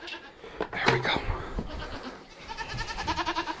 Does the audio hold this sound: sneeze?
no